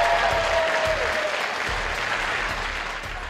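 Loud, dense applause from a crowd at a FuckUp Nights Riga event, as Māra Upmane-Holšteine is welcomed on stage, steady throughout and tapering slightly at the end.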